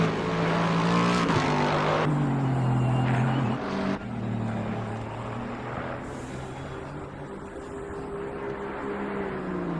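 GT race cars, including a Lexus, pulling out onto the Monza circuit in a sim racing broadcast. Loud sustained engine drones shift pitch as cars pass close by, with no commentary over them.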